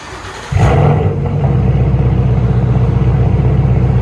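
A 2019 Ford Mustang GT with its 5.0 V8 and Dynomax Race Bullets exhaust barks loudly into a sudden rev, then holds a deep, steady, rumbling roar close by with no talking.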